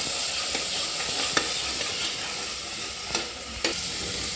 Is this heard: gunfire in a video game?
no